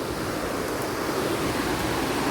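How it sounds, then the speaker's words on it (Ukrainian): A waterfall roars in a steady, dense rush of white water, close and loud, filling the whole moment without variation or voices. "Тут, до речі, теж такий класний водоспад"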